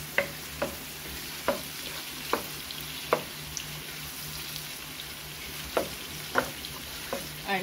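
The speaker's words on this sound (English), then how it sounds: "we're going to let the shrimp cook" Shrimp fry in a pan for a home stir-fry dinner, a soft steady sizzle broken by a series of sharp spatula clinks and stirring taps at irregular intervals.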